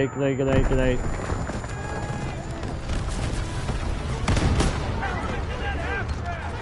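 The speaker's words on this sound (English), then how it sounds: "Oh, grenade." A grenade explodes in Call of Duty WWII, a sharp boom rising out of ongoing gunfire and battle noise, with voices talking over the action.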